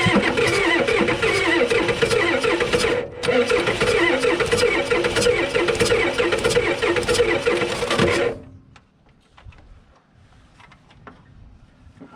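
An old car engine cranks hard with the throttle held wide open after sitting 12 years, a loud, steady churning roar for about eight seconds, briefly dipping once, before cutting off to near silence.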